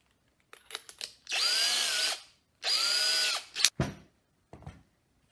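A handheld power drill with a metal bit bores into wood in two sustained whining bursts, each a couple of seconds long, framed by clicks and handling knocks and ending with a short rattle.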